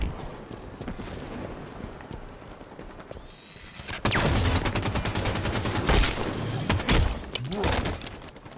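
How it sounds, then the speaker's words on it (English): Assault rifle gunfire in a Halo 5 multiplayer match, with loud, dense bursts of automatic fire that start abruptly partway through and continue in a rapid stream, broken by sharp impacts and blasts. "Nice fucking assault rifle."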